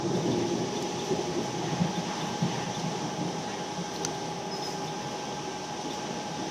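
A Sydney Trains T4 Illawarra Line train runs through Tempe station, heard from inside the carriage as a steady rumble of wheels and motors, moderately loud, with a few faint squeaks and no voices.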